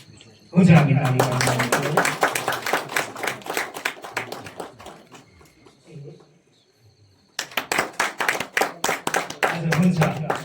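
Wedding guests clap together during the ceremony's cake-cutting, a loud burst of rhythmic applause that fades to a pause before a second round of clapping starts up again, close and lively.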